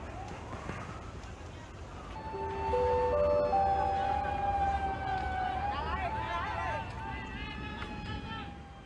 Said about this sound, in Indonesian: Sebanyak 17 unit mobil pemadam kebakaran dikerahkan ke lokasi untuk memadamkan api.